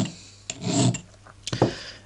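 A file rasps on the sear nose of a Smith & Wesson revolver hammer in a few short strokes. Each scrape is close and rough, with brief pauses between strokes.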